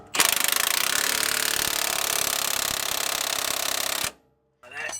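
A power tool tightens a bolt on a truck leveling kit, a loud, rapid hammering impact rattle running steadily for about four seconds before cutting off, followed by faint clatter.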